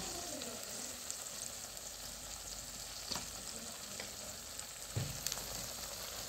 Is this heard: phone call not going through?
no